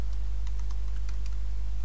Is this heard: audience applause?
no